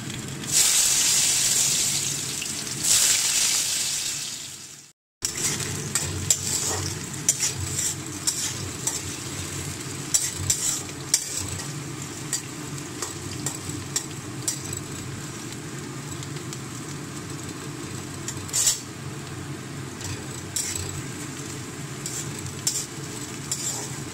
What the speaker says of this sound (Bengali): গরম হয়ে গেছে তেল, এবারে আমি একে একে করে আলুগুলো দিয়ে দেবো